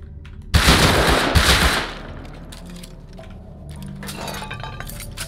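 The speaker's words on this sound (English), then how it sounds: "Can you hear the gunshots out on land?" Rapid bursts of gunfire in the survival game Rust, loud crackling shots in the first second or so, then fading to a quieter ambient backdrop with faint distant noise.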